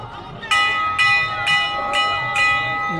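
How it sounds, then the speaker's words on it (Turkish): A bell rings above the Ganges riverbank in Varanasi, five clear metallic strikes at a steady half-second pace, ringing out over a low murmur of crowd and boat noise. "Yukarıda da çan çalıyor."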